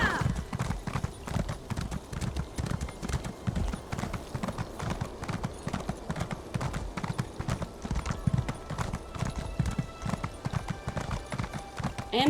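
Horse hooves in The Elder Scrolls Online, a rapid continuous clip-clop of galloping footfalls, loud and close throughout, with game ambience underneath.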